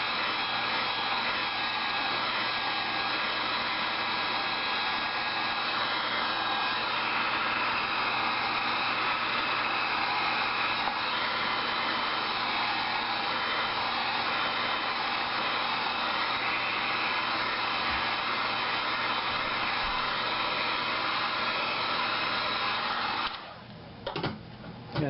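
A heat gun warming a Kydex sheet to bend a belt loop blows with a steady, loud airy whoosh for about 23 seconds, then cuts out with a few brief bumps and handling noises at the end.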